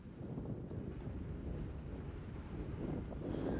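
Strong wind blows across a Colorado campsite, a steady, loud low roar buffeting the microphone throughout with no one speaking.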